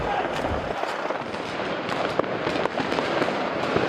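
Fireworks crackle and burst continuously during street riots in Amsterdam, a dense barrage of loud pops and bangs, with faint voices beneath the noise.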